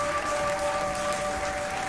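Steady applause from a crowd, continuous and moderately loud for a couple of seconds with no voices over it.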